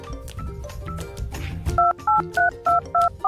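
A phone number is keyed on a mobile phone, six or seven evenly spaced dialing beeps ringing out clearly after a stretch of busy background noise.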